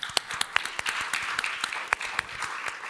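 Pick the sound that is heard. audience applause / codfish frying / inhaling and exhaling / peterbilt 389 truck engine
audience applause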